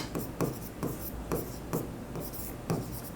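Handwriting an accounting journal entry with a pen on paper during a Bengali bookkeeping lesson: soft scratchy strokes and rubbing, with a regular rhythm of short, slightly louder pen taps, close and quiet.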